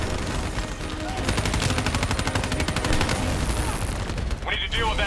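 Rapid automatic turret fire in a Call of Duty: Black Ops 3 campaign battle, a loud sustained stream of bursts with overlapping gunshots and explosions, ending in a sharp crackling burst.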